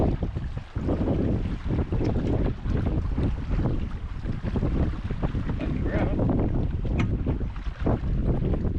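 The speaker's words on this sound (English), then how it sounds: "it's kind of windy right now, a little choppy" Strong wind buffets the microphone in continuous rough gusts on choppy, high water in the Quetico wilderness, with a brief spoken line partly buried underneath.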